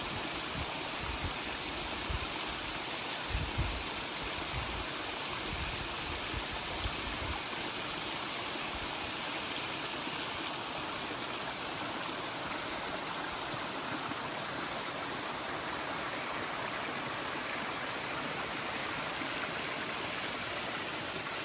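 A trail stream cascading over rocks makes a steady, full rushing roar that stays constant throughout, with a few low bumps early on and no talk.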